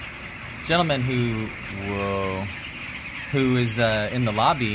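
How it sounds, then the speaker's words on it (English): Birds squawking and squealing in Bandirma, Turkey, with a sustained harsh call rising between bursts of close conversation that mostly covers the sound. "I think these birds are a trip, that's why I keep recording them"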